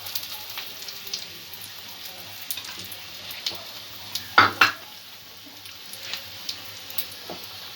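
Batter-coated chicken bite pakoras frying in hot oil, a soft steady sizzle beneath scattered light taps and scrapes as pieces are turned over, with one sharper clatter of utensil on pan midway.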